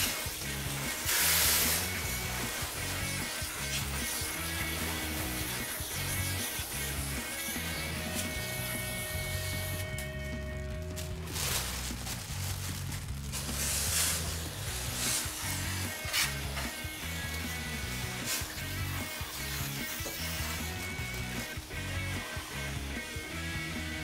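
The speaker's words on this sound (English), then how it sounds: "after cleaning the evaporator with a chemical, it's always best to rinse it. Today I'm going to be using our Hydro Sprayer product." A Hydro Sprayer rinses the evaporator coil of an air conditioner after chemical cleaning, giving a steady close spray and wash of water over the coil that runs throughout with some rubbing and knocking, and no talk.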